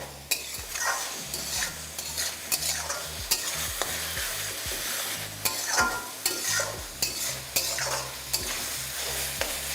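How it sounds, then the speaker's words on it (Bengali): Ridge gourd sautéing with tomatoes in a pan, with a steady sizzle broken by frequent sharp scrapes and taps of a spatula stirring close by, without any talking. "এবার 2 থেকে 3 মিনিট টমেটোর সাথে এটাকে ভালো করে একটু কষিয়ে নিন যতক্ষণ না ঝিঙেটা নরম হয়ে আসছে"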